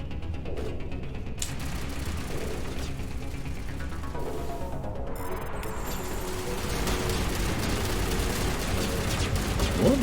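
Gunfire in the video game Mass Effect, with bursts of rapid shots and repeated firing, fairly loud and dense, continuing without a pause beneath a steady game soundscape.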